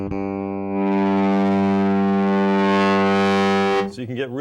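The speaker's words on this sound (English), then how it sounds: "So you can get really scorching distortion" Bass guitar played through a BB preamp set to heavy, scorching distortion: one long sustained buzzing note, loud and harmonically rich, held for several seconds before cutting off abruptly.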